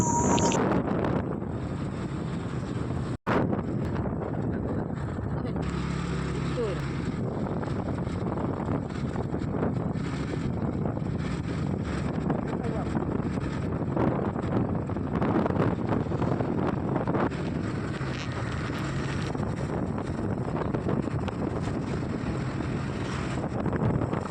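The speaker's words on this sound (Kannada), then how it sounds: "ಗಾಳಿನೂ ಒಳ್ಳೆ ತುಂಬ ಚೆನ್ನಾಗಿತ್ತು" Steady wind roars across the microphone along a seaside road near Malpe, a continuous broadband rush with gusty swells and one brief dropout, with no voices.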